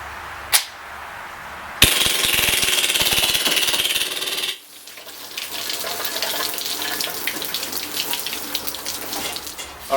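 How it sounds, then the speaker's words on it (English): An ASG-KWA MP9 A3 gas blowback airsoft machine pistol fires a long, rapid stream of BBs at cans about 20 feet away: a dense, continuous hissing rattle of shots that breaks off, then gives way to a fainter, ongoing clatter. "I'm going to unload this gun, all 45 rounds,"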